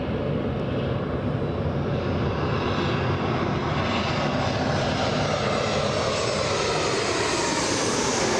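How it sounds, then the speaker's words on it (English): Southwest Boeing 737-700 airliner arriving at Los Angeles International Airport, a steady, loud broadband engine roar sustained throughout without talk. "A 737-700, this one."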